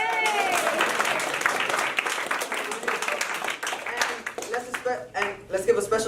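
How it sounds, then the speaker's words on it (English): A comedy show crowd claps and cheers for the performers, loud dense applause at first that gradually breaks into scattered claps, with a voice speaking over it. "And let's also give a round of applause to all the performers."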